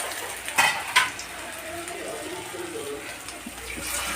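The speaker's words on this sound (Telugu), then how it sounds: "అన్నీ ఒకటి ఇలా వేసేసుకొని ఫ్రై చేసేసుకుంటాం" Baby corn and cauliflower pieces dropped into hot oil for Manchurian, sizzling steadily in a pan, with a couple of clatters of utensils near the start.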